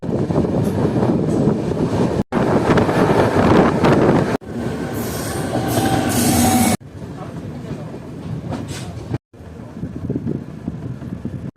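A Farakka Express passenger train rumbles along steadily, a loud continuous roar with wheel and carriage noise, broken by a few abrupt cuts.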